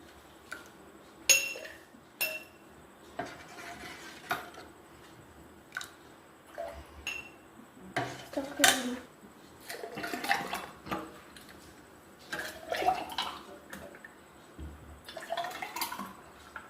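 Homemade mango juice poured into a glass in several short, close splashing bursts separated by quiet pauses.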